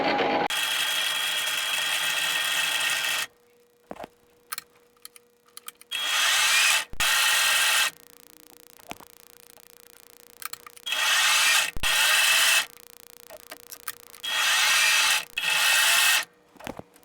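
Metal lathe running on power feed while machining a replacement part for a Rotring 600 Trio pen, with several bursts of steady whirring and cutting noise separated by quiet pauses and small clicks.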